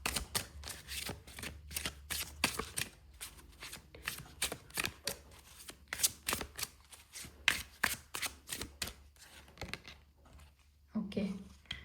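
A deck of spirit-animal tarot cards is shuffled in quick, crisp riffling bursts, close and fairly quiet, with a brief voice near the end.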